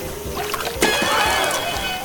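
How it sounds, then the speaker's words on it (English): Water sloshes and spills out of a LEGO pool filled with ice cubes, a close, continuous splashing and trickling with a few small knocks, no voices. "Yikes, all the water spilled."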